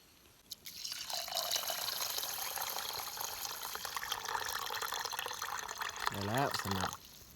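Water poured into a pot of rice for cooking, a continuous close splashing and gurgling stream that runs for several seconds, with a brief tonal sound near the end before it cuts off.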